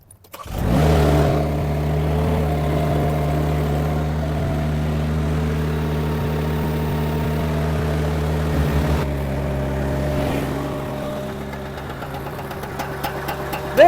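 A Chinese mini skid steer runs a tiller attachment in a backyard, its engine starting up and then holding a steady, loud, close rumble with a knocking throb. The sound shifts slightly as the tiller works, and there is no speech.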